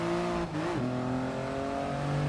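A race car in GT Sport pulls hard off the starting line: a loud, steady engine roar climbs in pitch, dips briefly at a quick gear change, then keeps pulling strongly. No talking.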